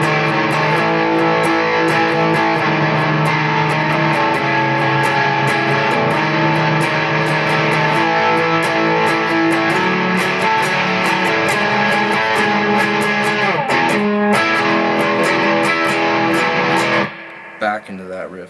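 Heavily distorted electric guitar plays a driving octave-chord riff, loud, dense and sustained with steady rhythmic picking, cutting off abruptly near the end.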